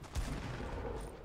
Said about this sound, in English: Oh crap, he has a minigun.